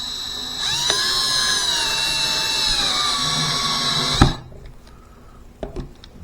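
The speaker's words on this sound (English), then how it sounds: "I'm going to go ahead and I'm going to drive these screws on down" A power drill drives screws into an LM-5 bass guitar kit: a high whining motor run of about four seconds, ending with a sharp knock, then faint handling clicks and taps nearby, with no talking.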